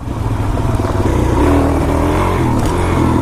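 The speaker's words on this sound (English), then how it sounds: "Oh my gosh, my bike's sputtering." A Suzuki DRZ400SM motorcycle engine runs loud and close, its low rumble uneven and stuttering as it sputters, with a rougher patch midway and the engine note wavering throughout.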